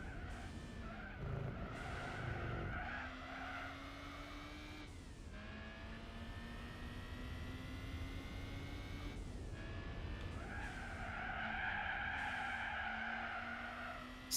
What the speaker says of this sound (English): Sliding the car right through the corner there.